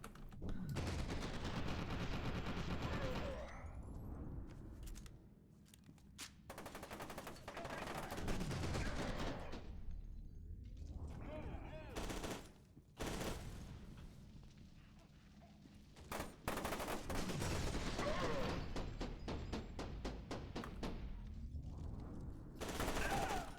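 Gunfire in the video game F.E.A.R. 2: Project Origin comes in repeated loud bursts of rapid automatic shots, separated by brief quieter gaps with rumbling, sustained through most of the passage.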